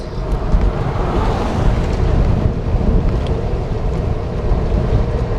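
Steady, loud wind buffeting a microphone outdoors beside a road, a dense low rumble and roar filling the whole span with no talking.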